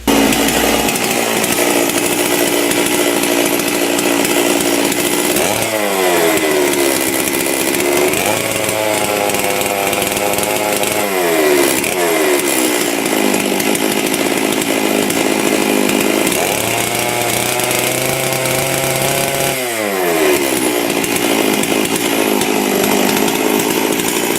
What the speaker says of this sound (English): I finally got the chainsaw oiling here